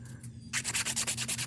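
A nail file scrapes an old nail design off a fingernail in quick, even back-and-forth strokes, a close rasping rub that starts after a brief quiet moment and repeats steadily.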